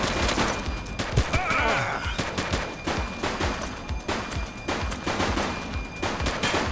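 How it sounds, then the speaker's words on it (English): Sustained gunfire from the police video game The Precinct, with dense bursts of automatic and repeated shots forming a loud continuous fusillade throughout, sharp reports layered over a busy battle din. "She's shooting!"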